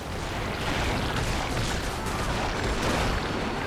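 Citadel Bombardment artillery strike in Guild Wars 2, heard as a dense, continuous roar of overlapping blasts and crackling impacts that holds steady and loud from start to finish.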